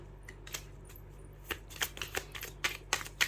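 Tarot cards are shuffled by hand in a quiet room: a series of crisp riffling and flicking bursts, sparse at first and then coming faster and closer together, each short and papery.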